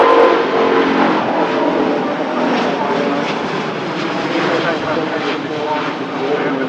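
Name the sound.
Singapore Airlines Airbus A350 departing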